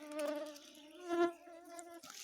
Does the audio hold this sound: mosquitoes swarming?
yes